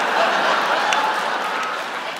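Audience clapping at a stand-up comedy show, a steady wash of applause from a crowd at moderate loudness that fades slightly toward the end.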